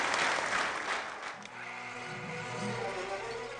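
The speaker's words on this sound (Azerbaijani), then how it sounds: "Alqış sədaları davam edir." A theatre audience applauding, a dense loud clatter of clapping that eases after the first second, then goes on more softly under a low murmur.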